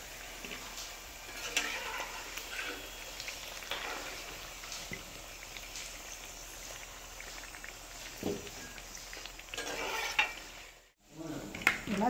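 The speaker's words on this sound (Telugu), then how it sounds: "గోల్డ్ కలర్ వచ్చే వరకు మనము ఇలా ఫ్రై చేసుకొని" Homemade biscuits fry in hot oil with a soft, continuous sizzle and occasional stirring clicks, fairly quiet and heard without speech.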